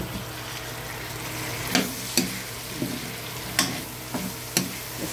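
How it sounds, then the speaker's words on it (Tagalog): Tomatoes sautéing in a hot pan for pork binagoongan, a constant close sizzle broken by sharp, regular stirring scrapes and clacks every second or so. "Isa-gisa lang po hanggang sa maluto"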